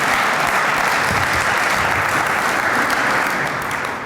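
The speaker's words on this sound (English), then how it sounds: "We can clap there." A university audience applauds at a Heritage Society event, a dense sustained clapping that fills the room at close range for about four seconds and fades slightly at the end.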